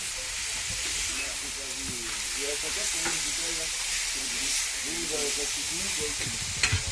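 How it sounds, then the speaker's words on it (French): Alsace white wine sizzles loudly on a hot plancha during deglazing, a steady hissing fry with spatula scrapes, while a voice talks underneath. "Une goutte de vin blanc d'Alsace pour déglacer et faire passer les sucres qui résiduels sur la plancha"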